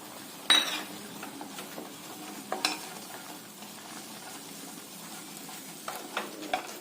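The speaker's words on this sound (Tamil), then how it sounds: "இப்ப நம்ம எடுத்து வச்சிருக்கிற மாவை இந்த சுடுதண்ணியில சேர்த்து நல்லா கலக்கி விடுங்க" Soft scraping and stirring of flour into boiling water in a pot for paal kozhukattai, with a few light clinks of a utensil against metal, fairly quiet with a low background hiss.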